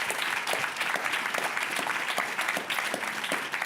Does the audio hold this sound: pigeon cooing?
no